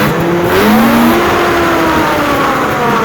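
A snowmobile engine idles loud and steady, with a continuous close mechanical drone and slight pitch wavering throughout, no voices.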